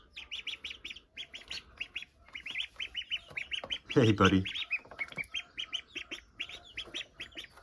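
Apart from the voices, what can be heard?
small farm chicks chirping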